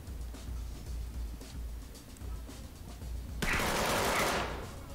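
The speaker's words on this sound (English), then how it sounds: "Don't let him shoot! He's shooting." Enemy gunfire in the tactical shooter game Ready or Not comes as a few faint distant shots followed by a louder burst of rapid fire near the end, over low background rumble, with no talking.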